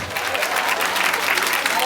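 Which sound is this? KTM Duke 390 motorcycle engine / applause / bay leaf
applause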